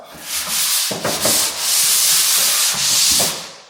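Rough, steady scraping of sandpaper across dried drywall joint compound in long back-and-forth strokes, close and loud, with a few brief pauses between passes.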